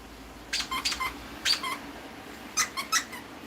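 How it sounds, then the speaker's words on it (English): A squeaky squirrel dog toy squeaks in several short, high bursts, some in pairs, moderately close against a quiet background with no talking. "You like squeaky squirrels."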